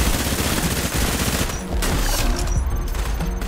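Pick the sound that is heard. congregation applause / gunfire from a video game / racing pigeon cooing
gunfire from a video game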